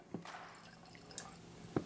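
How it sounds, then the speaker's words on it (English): Jameson Irish whiskey trickles into a glass as a few faint drips and small liquid splashes, quiet and close, with a brief clink near the end. "So let's get some poured here and get into this Irish whiskey"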